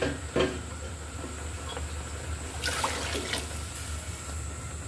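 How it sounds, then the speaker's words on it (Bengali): Water is poured from a cup into a cooking pot for boiling rice, a soft continuous hissing trickle with a couple of brief splashy bursts, fairly quiet and close, with no talking. "আমি আরো একটু পানি দিয়ে দিচ্ছি।"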